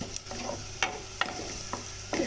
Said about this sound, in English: We will saute the onions till they are nicely browned and